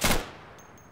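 A single sharp, loud shotgun blast from a Mossberg 590 in the video game Insurgency bursts out and decays quickly, followed by a couple of faint electronic blips.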